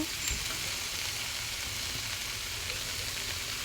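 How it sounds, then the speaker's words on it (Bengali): A spice paste fries in oil with salt while being stirred, giving a steady, even sizzle that stays constant and fairly soft throughout, with no voices. "এখানে তেলটা দিয়ে সুন্দর করে নাড়াচাড়া করে সামান্য পরিমাণ লবণ দিয়ে এটাকে আরও কিছুক্ষণ নাড়াচাড়া করে নেব"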